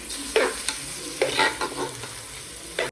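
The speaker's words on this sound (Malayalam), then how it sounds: "എന്നിട്ട് ഈ അരി നല്ലോണം വറുക്കണം" Jeerakasala rice roasted on high flame in a pan and stirred, giving a soft dry sizzle with a few scraping strokes of the spoon, close and alone.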